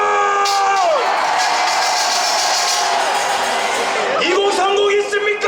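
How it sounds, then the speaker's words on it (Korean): A teenage crowd at an anti-impeachment rally for President Yoon Suk-yeol on Geumnam-ro in Gwangju roars forward. A loud, sustained wall of shouting and cheering follows a leader's drawn-out call and swells again as another voice cuts in. "여기 10대 있으면 전방으로 함성!"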